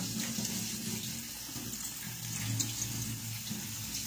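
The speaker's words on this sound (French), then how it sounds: "je vais les rincer abondamment sous l'eau. Sous l'eau claire, sous l'eau froide" Cold tap water runs steadily into a sink as red lentils are rinsed under it, a continuous close splashing rush with no voices.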